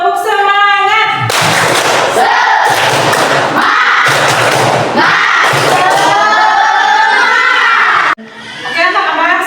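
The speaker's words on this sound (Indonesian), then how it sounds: "Tepuk semangat." Classroom children chanting and clapping a rhythmic cheer together during an ice-breaking activity, loud and close, with shouted voices and thumping claps running continuously before cutting off abruptly near the end.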